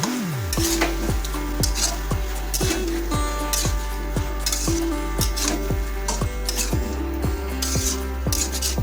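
Spice paste for a light chicken curry sizzles in a wok while a utensil scrapes and stirs in a regular rhythm, close and loud, with no talking.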